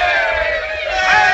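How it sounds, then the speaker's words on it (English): A crowd in an old Western cheers and shouts as one dense, steady wash of many voices. It stays fairly loud for just over a second, with no single voice standing out. "And keep cheering."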